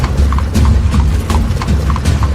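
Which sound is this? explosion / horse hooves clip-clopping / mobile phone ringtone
horse hooves clip-clopping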